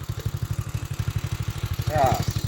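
A drift trike engine with a newly fitted exhaust idles in a fast, even low putter that runs steadily throughout, close by, with a brief voice near the end.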